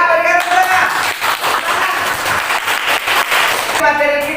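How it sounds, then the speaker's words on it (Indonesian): A classroom of students applauds together in steady, dense clapping that fills the room, with a teacher's voice briefly heard at the start and end. "Ya, berikan tepuk."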